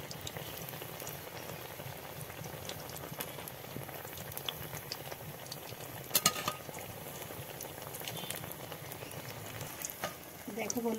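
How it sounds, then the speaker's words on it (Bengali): A potato snack deep-fries in hot oil, making a quiet, even bubbling crackle that resembles light rain, with a sharp clink near the middle and a few stirring sounds. "দেখো বন্ধুরা, হয়ে গেছে আমার ভাজা"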